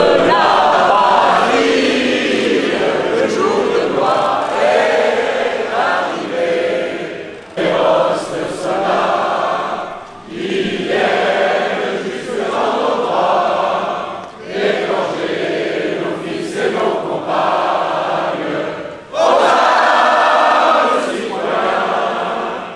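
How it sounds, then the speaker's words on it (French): Rally crowd singing the Marseillaise a cappella at a presidential campaign launch in Aubervilliers, many voices in loud sustained phrases with brief pauses between lines, no instruments. "nous allons a cappella chanter la Marseillaise"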